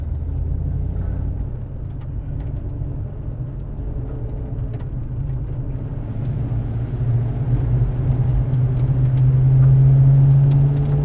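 A Ford Mustang Shelby engine rumbles low on a drift course, then builds steadily as it accelerates, ending in a louder, rising rev tone near the close.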